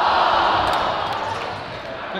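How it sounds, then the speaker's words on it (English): The crowd at a high school girls' basketball game, St. Joseph vs Marion Graham, roars loudly and steadily in a big gym, with cheering that holds for a couple of seconds. "The crowd is into it."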